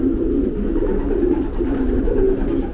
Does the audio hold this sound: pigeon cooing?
yes